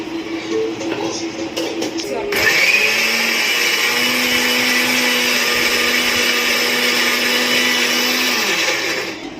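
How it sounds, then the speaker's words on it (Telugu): A mixer grinder grinding onions with water roars into a loud, steady blend after a short quieter stretch, whirring continuously for several seconds before it begins to wind down. "ఇలా ఆనియన్స్ చేసుకోవాలి, మిక్సీ వేసుకోవాలి."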